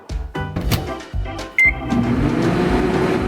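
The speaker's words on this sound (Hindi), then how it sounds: "और अब इसे माइक्रोवेव में रख देता हूँ और थोड़ा इंतजार करना होगा।" A microwave oven heats a flour, egg and milk mixture: a few clunks come first, then a short beep, then a steady low hum with a faint whine.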